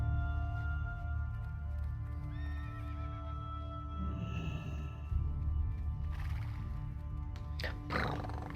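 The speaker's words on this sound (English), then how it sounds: "Did you hear that horse?" A horse in World of Warcraft Classic gives a drawn-out whinny over a few seconds, fairly faint against a steady ambient game soundscape, with hoof-like clopping and other noises following.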